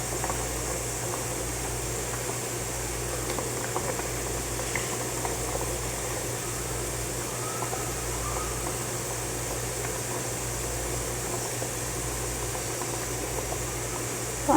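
Water simmers and bubbles in a pan as an egg cooks without oil, a soft, continuous bubbling hiss with a low steady hum beneath, no voices.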